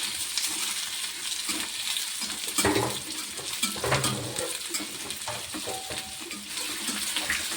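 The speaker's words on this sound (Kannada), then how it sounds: "ಇಲ್ಲೇ ಚೆಂದಾಗಿ ಚೆಂದಾಗಿ ಫ್ರೈ ಮಾಡ್ಕೊಳಂಬ್ರಿ ಎಣ್ಣೆಯಾಗ" Green chillies frying in oil for chicken biryani, a soft continuous sizzle with scattered clinks and stirring scrapes, fairly quiet and close.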